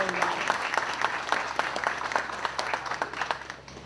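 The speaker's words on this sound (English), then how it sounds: "can we get a special round of applause?" Applause from the audience at an outdoor Veterans Day ceremony in Tinley Park for a departing commission chair, moderately faint, with individual claps audible in a scattered, steady patter.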